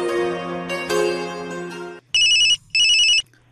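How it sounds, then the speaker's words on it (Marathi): On a Marathi radio phone-in request show from Akashvani Aurangabad, a short music passage gives way to two loud, evenly spaced electronic telephone ring bursts, with no voices. "बघूया आज कुणाचे फोन आहेत"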